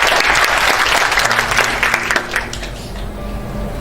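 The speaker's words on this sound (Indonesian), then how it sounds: "Tepuk tangan bagi Tuhan." Church congregation at an Indonesian worship service breaks into loud clapping, a dense roar of applause that thins and fades toward the end, with a hum left underneath.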